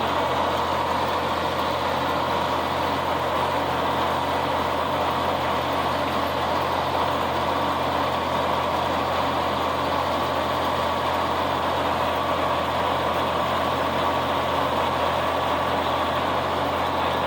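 A Ford tractor engine idles steadily with a low, constant rumbling hum, unchanging throughout.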